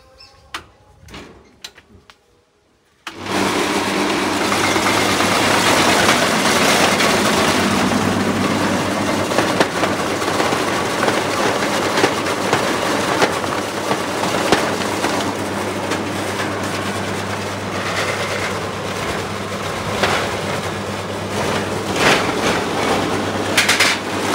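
A handmade jackfruit cutting machine runs loud and steady after a short quiet start, a continuous mechanical whirr with a low hum and scattered rattling clatter throughout.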